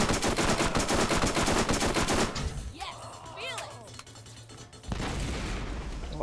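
Gunfire in the shooter game Borderlands: dense rapid automatic bursts at first, then a sparser stretch with whooshing projectile and effect sounds, before heavy shooting resumes loudly.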